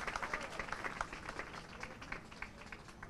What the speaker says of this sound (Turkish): Sanatçı kardeşlerimizi, sanatçı arkadaşlarımızı bu güzel eserden dolayı bir kez daha alkışlamanızı istiyorum